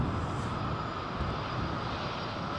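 A large airliner landing at Heathrow Airport, a steady broad engine roar heard from a distance, continuous and fairly loud with no talk.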